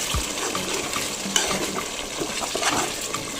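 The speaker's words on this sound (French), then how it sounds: "je vais mélanger encore" A spoon stirs a white bean and coconut milk meat sauce in a pot for a Comorian dish, with soft scraping and wet sloshing over a low simmering sizzle, close and steady.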